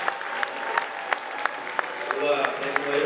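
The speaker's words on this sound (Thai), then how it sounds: "ขอเสียงปรบมือแรงๆอีกครั้งหนึ่งนะครับ" An audience at a Thai sports awards ceremony applauds steadily, a sustained wash of clapping with a few sharp claps standing out, while someone talks over it.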